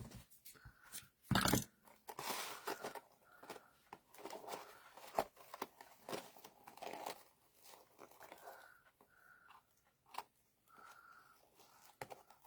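Material cut off for a bow with scissors: a few crisp snips and crinkling handling sounds, close and fairly quiet, in short irregular bursts with pauses between.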